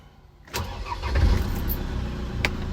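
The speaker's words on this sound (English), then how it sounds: "So let me start the engine." A 2015 Land Rover Defender 130 Special Utility with 66k miles cranks and fires up, a sudden onset rising into a steady, close engine idle that settles and continues to the end.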